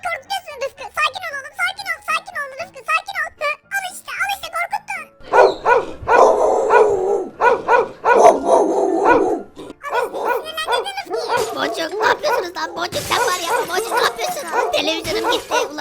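A dog in the Minecraft video game barks and yips repeatedly in short bursts while people talk and shout in Turkish throughout.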